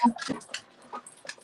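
Dogs whimpering and panting right after a minor scuffle between them, a few short whiny yelps and breathy pants close by, with a person's voice briefly among them.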